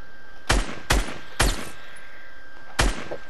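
Four sharp, loud gunshots in the video game Fortnite ring out alone at uneven intervals, the first three close together and the last after a longer pause.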